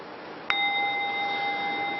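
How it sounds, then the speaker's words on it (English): A single chime is struck once and rings out in a clear, steady, sustained tone with bright overtones. The tone holds over a quiet background hiss with no talking. "I've been ringing this chime about every 12 seconds."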